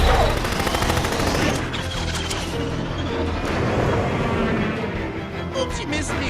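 Rapid gunfire, a dense rattling burst at the start that fades into scattered shots and echoes, loud and close with no clear talk.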